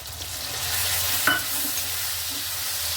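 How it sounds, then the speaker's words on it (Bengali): Onion sizzles in a hot pan for a prawn and broccoli curry with potatoes, a steady close frying hiss with a brief scrape of stirring in the middle. "এবার আমি কিছুটা পেঁয়াজ দিয়ে দিচ্ছি, একটু লাল করে ভাজবো"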